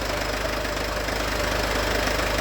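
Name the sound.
Mercedes Vito van engine running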